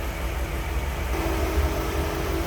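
A 1955 Ford Thunderbird's 292 V8 idles steadily under an open hood, a smooth, even low rumble held close and constant throughout with no voices.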